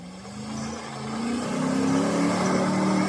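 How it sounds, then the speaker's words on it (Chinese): An old Hemi V8 engine in an off-road vehicle revs hard while climbing a steep slope, its loud, steady drone rising in pitch and strength over a few seconds, with no talking. "我们看看黑米发动机的表现了，老款黑米发动机"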